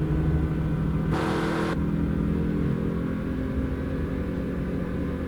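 A Ford Focus engine in Euro Truck Simulator 2 drones steadily while cornering at 140 km/h, a continuous low rumble with a brief brighter burst partway through.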